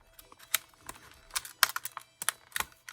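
Irregular sharp clicks and crackles of a plastic blister pack holding a He-Man figure being cut open, close and quick.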